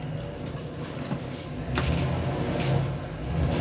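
A rebuilt 4L80E transmission takes a school bus away in first gear with a steady low engine rumble from inside the cab, growing slightly louder partway through as the bus pulls off.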